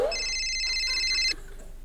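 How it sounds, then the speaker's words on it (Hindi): A mobile phone rings on a comedy TV show set, a bright electronic ringtone of stacked high tones playing for just over a second before stopping abruptly, leaving quiet room tone. "एक मिनट मेरा फोन बजा, कट करना।"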